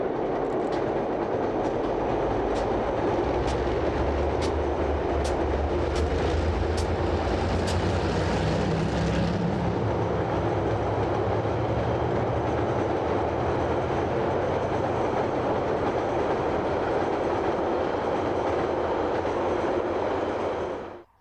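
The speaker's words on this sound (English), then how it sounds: "Glenbrook Vintage Railway's DBR 1254 leading south." Glenbrook Vintage Railway's DBR 1254 diesel locomotive leads a train south in New Zealand, a loud continuous rumble and roar with a few sharp clicks early on, holding steady for about twenty seconds before cutting off abruptly.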